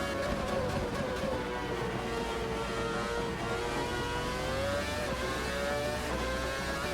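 A Ferrari's engine accelerates hard on the Nordschleife in a racing video game, a steady rising engine note that stays loud and continuous throughout.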